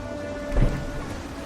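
Rain pours steadily in the video game Dishonored, a constant wash of hiss with one soft low rumble midway, and no speech.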